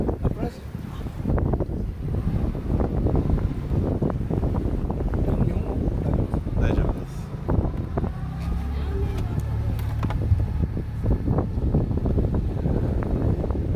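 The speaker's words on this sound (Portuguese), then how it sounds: "porque tá com vento forte, a correnteza também tá forte" Strong wind buffets a small, shallow boat on a fast-flowing river in Brazil, giving a steady, loud rumble of gusts and water that runs through the whole stretch.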